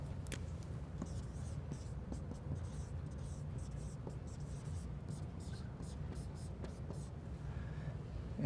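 Marker or chalk strokes on a board while a word is spelled out during a talk about impeccability, sounding as faint scratchy taps and short squeaks over a steady low room hum.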